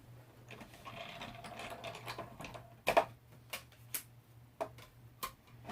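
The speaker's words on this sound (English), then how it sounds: "So I'm just going to run this through my die cutting machine." A card passing through a manual die cutting machine: a steady ratcheting, clicking mechanism, then several separate sharp clicks and ticks at irregular intervals, close and fairly quiet, over a low constant hum.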